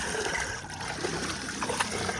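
Floodwater pours over an edge and drains away, a steady broadband rushing and trickling wash that stays fairly loud and constant throughout, with no voices.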